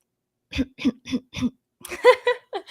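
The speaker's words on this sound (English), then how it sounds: "how you're supposed to properly clear your voice" A person clears their throat in four short, evenly spaced rasps, followed by a few quick voiced grunts, close and otherwise quiet.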